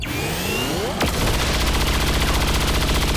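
Gunfire in XCOM 2: War of the Chosen, with a sharp blast followed by a loud, rapid, sustained burst of automatic fire that rattles on close and steady.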